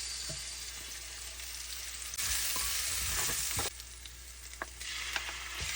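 Tomato and bitter gourd sautéing in a pan used earlier for frying chicken wings, a constant close sizzle with bursts of louder crackle and stirring scrapes, no talk.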